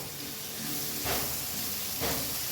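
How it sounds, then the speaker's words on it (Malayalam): Sliced onions sautéing in a pan for a chicken dish, giving a steady, close hiss of sizzling oil with a couple of brief louder surges of stirring. "ഈ സവാള ഒന്ന് നന്നായി വഴറ്റിയെടുക്കണേ"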